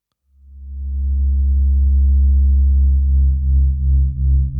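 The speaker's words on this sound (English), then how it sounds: "Semi-modular synthesizer, 3 oscillators, multiple modulations, wave shaper." Semi-modular synthesizer with three oscillators, multiple modulations and a wave shaper sounding one steady, loud, bass-heavy sustained tone with harmonics, swelling in over the first half second and then wobbling in slow pulses toward the end.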